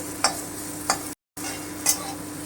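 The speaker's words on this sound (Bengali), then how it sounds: "এই যে ঢ্যাঁড়সগুলো আমার ভাজা হয়ে গেল এবারে আমি ঢ্যাঁড়সগুলোকে উঠিয়ে নেব" Okra frying in a wok with a steady sizzle, broken by three sharp stirring scrapes spaced about half a second to a second apart and one brief dropout to silence; close and alone, no talk.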